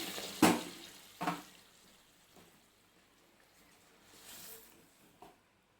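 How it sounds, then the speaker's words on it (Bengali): Masoor lentil dal, seasoned with turmeric and salt, is poured into a pan holding a fried hilsa fish head, giving two quick splashy bursts followed by a soft, faint liquid sizzle and a few small later splashes. "নিয়ে এবারে আমি ওর মধ্যে ডালটা ঢেলে দেবো"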